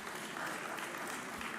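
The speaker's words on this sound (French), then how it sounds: "Le Sénat applaudit très fort" Members of the French Senate applaud in the chamber, producing a dense, even wash of clapping for a short stretch.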